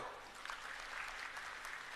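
Crowd at an Aam Aadmi Party booth workers' political rally applauding, a dense continuous wash of clapping at moderate distance, steady throughout without speech.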